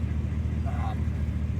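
A Chevy truck's brakes give a brief high squeal from a worn pad or loose pad clip, heard over the steady low engine and road drone inside the cab.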